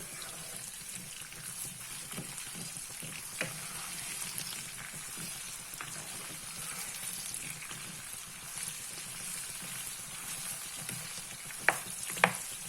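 Mango pieces sizzle and fry in hot oil in a pan, a steady soft crackling hiss with a few sharp pops and clicks, heard alone and fairly quiet.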